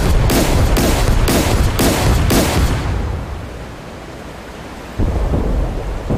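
Weapons fire from a Grisha V corvette in DCS World, a string of five or six heavy booming shots in quick rhythm that then fade into a low rumble before another distant thud.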